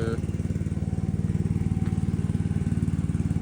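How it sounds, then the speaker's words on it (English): A generator engine runs close by with a steady, rapid low-pitched chugging throb, loud and continuous throughout with no talk over it. "get the generator going and cut that stuff off"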